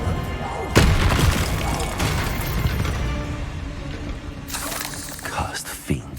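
A Bombarda spell explosion in Hogwarts Legacy, a loud booming blast followed by rumbling debris and crashing, with a second burst of crackling impact toward the end.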